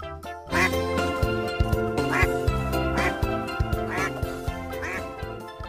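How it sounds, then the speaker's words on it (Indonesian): A duck quacks repeatedly in a steady, evenly spaced rhythm, loud and close, over bright playful music that runs throughout. "Ini namanya bebek."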